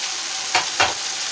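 Peas frying in a pan for a mixed vegetable rice, a continuous bright sizzle with two short stirring scrapes near the middle.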